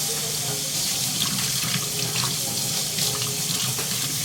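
Steady running tap water rinses soap solution out of porcupine quills for quillwork dyeing, a continuous close splashing flow filling the whole moment.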